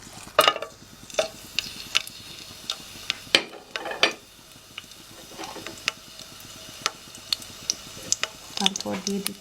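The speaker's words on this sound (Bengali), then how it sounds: "প্রথমে আমরা দিয়ে দিব তেজপাতা, এলাচ আর দারচিনিগুলো।" Bay leaves, cardamom and cinnamon frying in a little over 100 grams of oil, with sharp sporadic clinks and taps of utensils against the pan over a low sizzle, close by.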